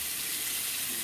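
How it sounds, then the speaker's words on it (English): Tap water splashes from a bathroom sink as it is thrown onto a face, a steady, close, hissing wash of water with no voices. "So I'm just going to throw some water on my face"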